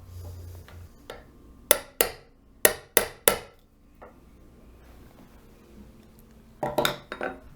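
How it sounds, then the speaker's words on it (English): Sharp wooden knocks in quick clusters, like a mallet striking a chisel into a wooden rifle stock, with pauses between bursts and a final rapid pair. "we start to chisel this material out"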